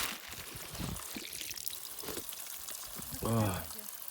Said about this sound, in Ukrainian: джерело тіче